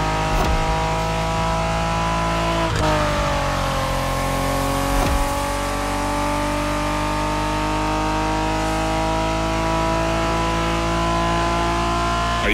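A Honda MSX from the 1990s drives in the racing game The Crew Motorfest, its engine holding a loud, steady mid-pitched drone with a couple of brief shifts in tone, no voices over it.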